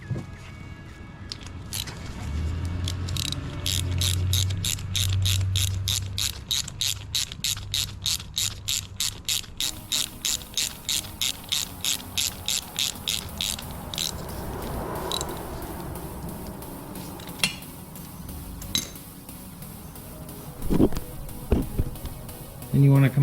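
A ratchet spins a bolt on a KTM RC 390 motorcycle during a first service, a quick, even run of close clicking that speeds up and then stops, followed by scattered scrapes and metallic clunks.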